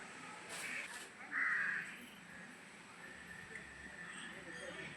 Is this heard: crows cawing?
yes